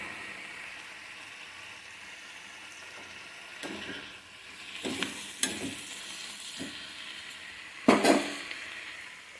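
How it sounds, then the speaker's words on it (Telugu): Fenugreek leaves and onions fry in a pan for an egg and fenugreek curry, a soft sizzle running beneath intermittent scraping stirs and a few sharper clinks of the utensil against the pan. "వేసి కలుపుతూ ఉండగానే సగం మగ్గిపోయింది ఇంకొంచెం మగ్గనిద్దాం బాగా మగ్గాలి"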